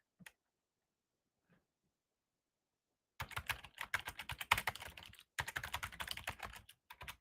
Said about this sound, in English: typing this into ChatGPT because there's nothing that's going to get me an answer faster